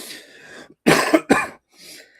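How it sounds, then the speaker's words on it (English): Someone who is a little under the weather coughs twice in quick succession, close and loud, with some breathy throat noise just before. "if I keep coughing, I apologize"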